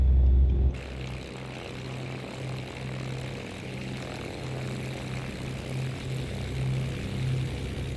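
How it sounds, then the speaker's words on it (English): A Beechcraft Baron 58 twin piston-prop aircraft in the flight simulator X-Plane holds an engine run-up, a steady, loud propeller drone with a low throbbing hum that swells slightly toward the end. "We're going to do a slight run up at the end"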